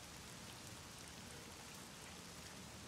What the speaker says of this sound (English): Oh, is this supposed to be like the rain?